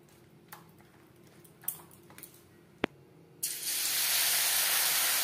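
Battered bitter gourd (ucche) slices hit hot refined oil: a few faint clicks and one sharp tap, then a sudden loud, steady sizzle that keeps going to the end.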